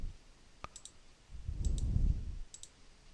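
A handful of sharp computer mouse clicks while drafting in AutoCAD, one crisp click standing out early and a few lighter ticks after, over a low muffled rumble.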